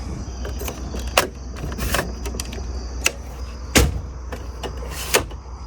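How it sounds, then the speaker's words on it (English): The screen door of a 2017 Jayco X213 camper is handled, giving several sharp clicks, rattles and knocks spread irregularly over a low background hum, close by. "Screen door,"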